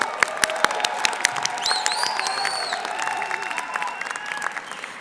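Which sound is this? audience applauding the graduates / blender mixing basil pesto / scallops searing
audience applauding the graduates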